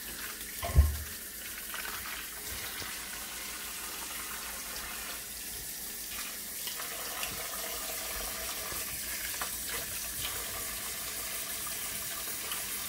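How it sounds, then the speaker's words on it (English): A tap runs steadily into a sink with a soft splashing rush, one thud near the start and faint clinks of canning lids being rinsed. "You need to take them and wash them with hot water."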